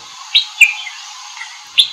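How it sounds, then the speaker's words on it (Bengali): A few birds in the trees of Lawachara National Park forest give soft, brief chirping calls, three or four spaced notes against a quiet background. "অদূরে গাছের ডালে দু চারটি পাখিদের মৃদু ডাক।"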